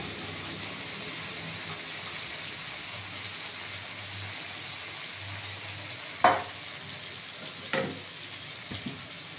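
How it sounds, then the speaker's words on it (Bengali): A banana flower mixture sautéing in a pan with water added, a soft steady bubbling sizzle interrupted by two sharper clacks of a utensil and a few faint knocks near the end. "জল দিয়ে এইটা কষানো হবে।"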